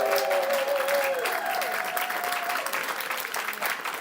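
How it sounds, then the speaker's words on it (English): Steady applause from an audience at the 2021 ENnie Awards ceremony, loud and sustained throughout, with a brief voice tone near the start. "Have a big round of applause, people."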